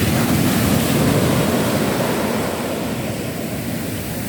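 Sea waves wash onto a beach in the evening as a steady, broad roar of surf with wind across the microphone, loud and continuous, easing slightly toward the end, with no voices.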